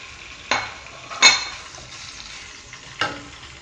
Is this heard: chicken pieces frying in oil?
yes